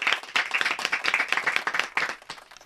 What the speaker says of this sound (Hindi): जोरदार तालियां कैफी साहब की स्मृति में।